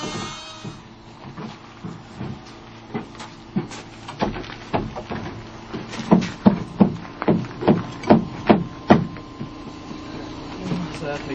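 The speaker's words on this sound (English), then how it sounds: "We're both using brackets and we're screwing them down." Screws being driven into brackets on a wooden playhouse, a series of sharp, regular bursts that grow louder and come closer together toward the end, over a low steady background.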